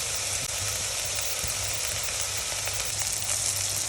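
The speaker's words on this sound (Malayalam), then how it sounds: "എടുത്തു വച്ചിരിക്കുന്ന പച്ചമുളകും ഇഞ്ചിയും വെളുത്തുള്ളിയും കൂടി അതിലേക്ക് ചേർത്ത് കൊടുക്കാം. ഇളക്കി നന്നായി വഴകാനുള്ള ടൈം കൊടുക്കുക." Green chilli, ginger and garlic sauté in a pan for a Kerala-style mutton stew, a loud, continuous close sizzle with a few soft stirring knocks and no talking.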